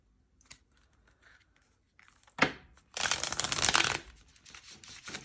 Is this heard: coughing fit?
no